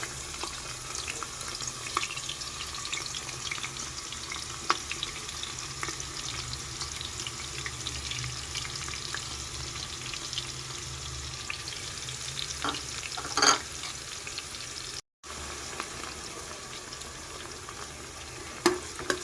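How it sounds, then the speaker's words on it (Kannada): Fennel seeds, bay leaf and onion fry in hot oil with a steady, even crackle and hiss that runs without a break, with a few sharper pops and clatters near the end. "ಕಾದಿರೋ ಎಣ್ಣೆಗೆ ಸ್ವಲ್ಪ ಸೋಂಪು, ಸ್ವಲ್ಪ ಪಲಾವ್ ಎಲೆ, ಹಾಗೂ ಸ್ವಲ್ಪ ಈರುಳ್ಳಿ ಹಾಕ್ಕೊಳ್ತಾ ಇದ್ದೀನಿ."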